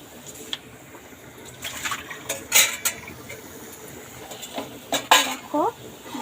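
Pots and utensils clatter while potato curry is cooked, with sharp metallic clinks and scrapes in irregular bursts over a quiet kitchen background, some louder strikes standing out close by.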